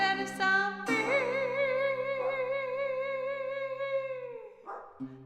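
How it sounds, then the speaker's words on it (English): A single dog gives a long, drawn-out, wavering howl lasting several seconds, loud and close, preceded by a couple of short yips, with no talking. "That's all coming from one dog."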